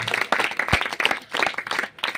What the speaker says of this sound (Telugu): చప్పట్లు కొడుతూ దేవుణ్ణి మహింపరుద్దాం.